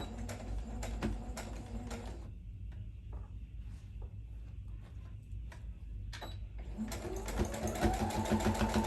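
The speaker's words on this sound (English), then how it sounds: "Okay, so I'm going to go ahead and sew this on like so." A sewing machine runs in close bursts while stitching a boning channel on a corset bustier top, with rapid mechanical chatter, a quieter pause with light handling noises, then stitching that resumes and builds toward the end.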